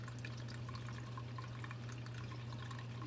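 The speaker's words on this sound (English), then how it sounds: "we're pouring the water very carefully into the pan as it sits on the rack in the oven" Water poured carefully from a container into a pan sitting on a rack inside a kitchen oven, a steady, continuous trickle and slosh with a low background hum, no talking.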